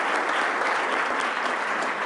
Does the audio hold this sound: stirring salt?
no